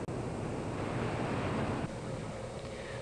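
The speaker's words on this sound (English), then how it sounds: "let's return to the wave tank." Waves surge and wash through a laboratory wave tank, a steady broadband rush of water that eases slightly near the end, heard alone without voices.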